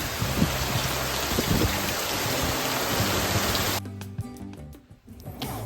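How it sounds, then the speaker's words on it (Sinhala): Heavy rain pours down in a dense, steady hiss with low patter, then abruptly gives way to quieter, sparser sounds for the final couple of seconds. "මහා හයියෙන් වහින්න ගත්තා"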